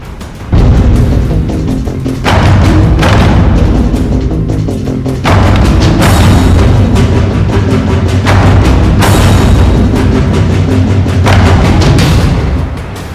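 Heavy Russian artillery shelling in Ukraine during wartime, sounding as a series of loud, deep booming blasts, about five or six heavy thuds with rumbling tails spaced a couple of seconds apart, filling the whole stretch without any voices.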